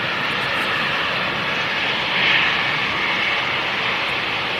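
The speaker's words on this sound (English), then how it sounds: "Next departure, Luxair. Going back to Luxembourg, dash 8." A Luxair Dash 8 turboprop departs London City Airport, its engines a loud, steady roar with a broad whine that swells slightly midway.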